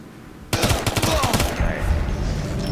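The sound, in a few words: gunfire from video game Ghost Recon Future Soldier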